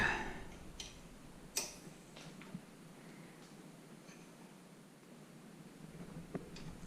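A ratchet strap is cinched on a Givi PLR3112 luggage rack fitted to a 2018 Suzuki V-Strom 650XT, giving a few sparse, quiet clicks with soft rustling between them.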